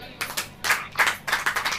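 A congregation at a Hindi-language Christian sermon claps in uneven bursts, close and fairly loud, the claps bunching and fading for a few beats with no one speaking over them.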